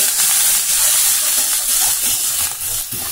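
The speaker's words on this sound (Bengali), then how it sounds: "ভালো করে দেখো ভাজা করে নিচ্ছি পেঁয়াজটা।" Onion frying in a pan with ginger and cumin paste, a loud, steady hiss and sizzle with faint stirring scrapes near the end, close and continuous without voices.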